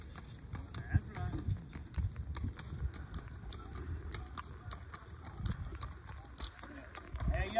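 Horse hooves clip-clop in a steady, continuous rhythm at moderate distance outdoors, mixed with low rumbling background and occasional voices.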